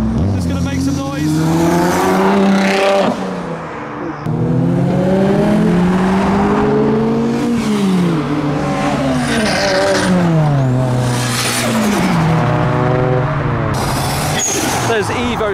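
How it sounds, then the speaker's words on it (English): Tuner cars including Toyota Supras, Mitsubishi Evos and a Nissan GT-R leave the JapFest car show one after another, engines revving hard and rising through gears as they pass close by, loud and continuous, with crowd voices underneath. "We got Evos, we got a GTR. Just gonna make some noise."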